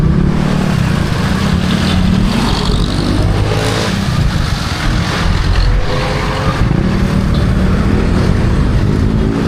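Steady road traffic with cars and motorcycles passing close by, a continuous loud engine rumble with revving swells and no clear gaps throughout.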